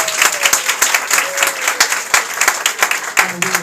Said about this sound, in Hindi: ये तालियां बहुत थोड़ी हैं।